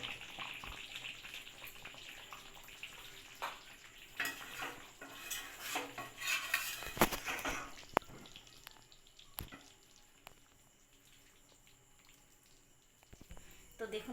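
A pot of sweet mango pickle comes off a gas stove with metal clatters, scraping and stirring knocks over a steady background hiss, close and moderately loud.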